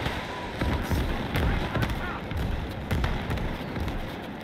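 Rocket barrage in the video game Gates of Hell: a rapid string of booming explosions lands one after another at an even pace, fairly loud, with some talking mixed in.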